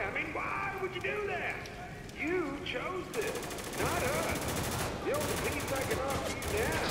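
Gunfire in Spec Ops: The Line, bursts of shots rattling through a dense, busy battle mix with music and effects, while a player talks over the noise throughout.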